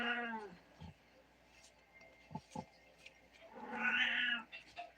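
A domestic cat meows close by, a clear drawn-out call at the start followed by a louder, higher meow later, with short soft noises and a faint voice in between.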